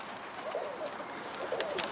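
Rooftop pigeons flapping and cooing in a busy outdoor scene, with steady crowd-like background noise throughout.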